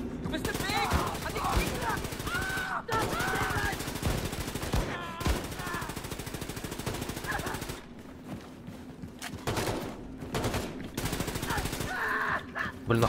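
Rapid bursts of automatic and single gunfire ring out almost continuously in Wolfenstein II: The New Colossus, loud and dense, with brief pauses and quieter stretches between volleys.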